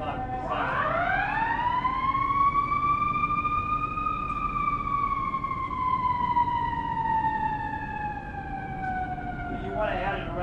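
An emergency vehicle siren wails outdoors in one long, loud sweep that rises and then slowly falls over about ten seconds, with steady background noise beneath it.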